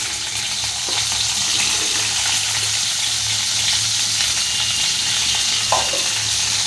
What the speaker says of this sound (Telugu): నేను ఇలా ఫ్రై చేస్తున్నాను